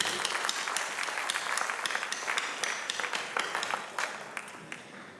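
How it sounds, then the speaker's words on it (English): Performers at an annual Vedanta multicultural show receive a round of applause from the audience, steady many-handed clapping with a few sharper claps standing out, heard at moderate distance and fairly soft. "Give them all a round of applause"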